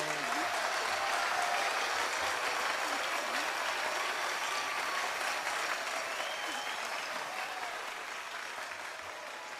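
Sustained applause from an audience after a final presentation of the night, dense steady clapping that fills the whole stretch and fades slightly toward the end.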